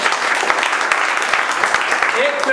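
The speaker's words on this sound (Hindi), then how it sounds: "जोरदार ताली बजा" A class at a mobile phone repair training institute applauds a student, with dense, steady clapping throughout and a voice speaking over it.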